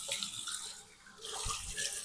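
Cold water runs steadily from a tap into a sink, a close, hissing gush that dips briefly and then surges again, with no one speaking.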